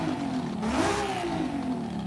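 Racing engine of about three liters revving hard in Forza Horizon 5 during drifting, a steady mid-pitched roar with a rising and falling pitch sweep, loud and continuous for about two seconds with no talk.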